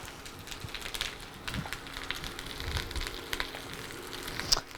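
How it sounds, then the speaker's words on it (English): Soft, steady sizzling with faint crackles and pops, low in level and continuous, like food frying gently in a pan. "I don't know if you can hear that sizzling a little bit."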